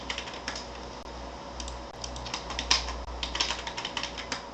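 Quiet, close clicking of keys as a password is typed on a computer keyboard, an uneven run of light taps over faint room hum.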